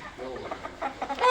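Home-raised red chickens clucking close by in a series of short, irregular clucks that grow louder toward the end, with faint talk in the background.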